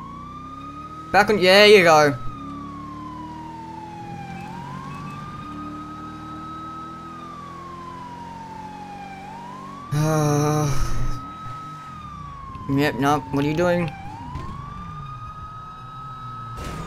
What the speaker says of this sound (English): What kind of siren is that?